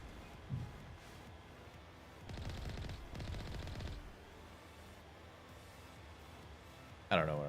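Gunfire in the video game Mass Effect comes in two dense, sustained bursts, the first about two seconds long and the second shorter, over a steady rumbling game background, followed by a sharp louder sound at the end.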